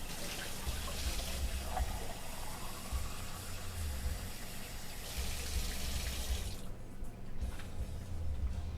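Water runs steadily from a tap with a continuous splashing rush, briefly easing off near the end before starting again.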